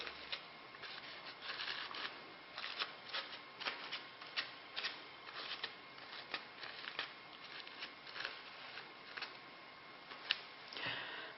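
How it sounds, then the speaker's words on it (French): Thin tissue paper sheets are gently pulled apart to shape a Christmas decoration paper flower, producing soft, repeated crinkling and rustling bursts at a close, quiet level with no talk. "je vais essayer, sans trop tirer parce que ça déchire, de former une fleur en séparant les feuillets."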